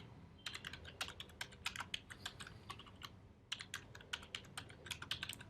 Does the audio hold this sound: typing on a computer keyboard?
yes